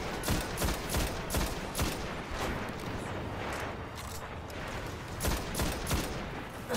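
Rapid gunfire in the Xbox One shooter Destiny rattles out in repeated bursts of sharp shots over several seconds, loud and dense, with brief lulls between volleys and no talking.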